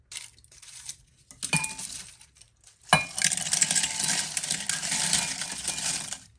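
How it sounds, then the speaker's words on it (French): Dried shrimp rattle and clink into a blender jar, first a few scattered taps, then a dense, sustained pouring clatter, close and fairly loud, with no talking. "Je vais mettre les crevettes dans le mixeur."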